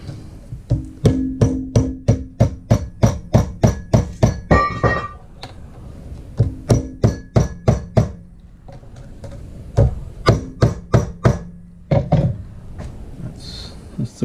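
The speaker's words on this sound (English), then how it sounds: "Now there are proper tools for this, but I don't have one of them, so I've got a big hammer." A big hammer knocks a flat belt pulley into place on a Drummond Bros. 3 1/2 inch M type lathe, giving loud, evenly spaced metallic strikes in two long runs, with a short pause and a few slower blows after.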